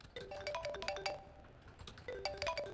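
A mobile phone ringtone plays quietly, a short bright electronic melody repeating in two bursts with a brief gap between them, and no talking.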